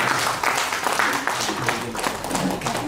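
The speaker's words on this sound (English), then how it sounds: "Please clap for him" Audience applause at a university workshop tour in Uganda, a steady, dense patter of clapping filling the whole stretch with some voices mixed in.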